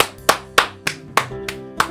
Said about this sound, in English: A round of applause fills the room.